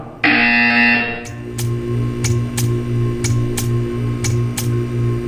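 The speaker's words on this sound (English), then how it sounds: "You will hear a buzzer." A harsh electronic buzzer in the video game Portal 2 blares for about a second, followed by a steady hum broken by a series of sharp, evenly spaced clicks.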